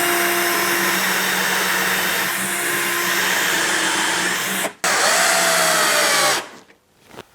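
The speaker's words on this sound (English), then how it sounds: "Drilling into tiles is always tricky because the drill just wants to skid off all over the place." A power drill whines continuously into ceramic tile through a Milescraft DrillMate guide, loud and close, with a brief break midway and then winding down at the end.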